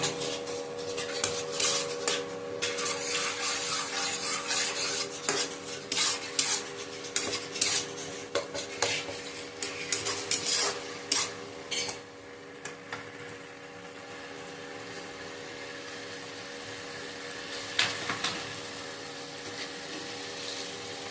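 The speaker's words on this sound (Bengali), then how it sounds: "মশলাটাকে আমি এইভাবে ভালো করে কষে নেব।" Spice masala stirred and fried in a pan for khesari and chana dal dhoka dalna, repeated metallic spatula scrapes and clinks against the pan over a low sizzle, irregular strokes spread across the stretch with a quieter pause midway.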